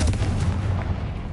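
A Confringo blasting spell explodes in Hogwarts Legacy, giving a brief, loud, low rumbling boom with dense noise that fades slightly over a second.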